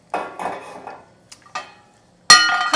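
Metal pot lid set down half over a pot of braising black beans on the stove: a few close clinks and rattles of lid against rim, ending in a brighter ringing clank.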